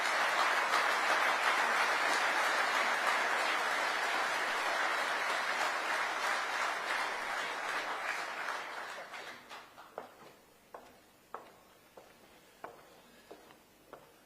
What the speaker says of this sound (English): If you'd like to give him a round of applause,